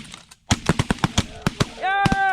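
Shotgun blasts at geese on a bird hunt: about eight sharp, loud shots fire in quick irregular succession, followed by a voice shouting.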